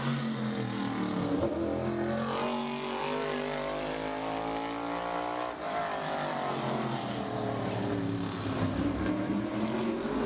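A modified race car, the number 44, screams through a qualifying lap at Bowman Gray Stadium. Its loud engine climbs in pitch, dips briefly about halfway through, then winds up again in a continuous near roar.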